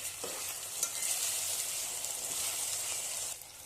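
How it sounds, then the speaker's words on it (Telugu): Potato pieces frying in hot oil with onion and green chilli, a dense continuous sizzle with occasional stirring scrapes, close and fairly quiet. "ఇప్పుడు ఆలు వేసుకోవాలి మంచిగా ఫ్రై చేసుకోవాలి"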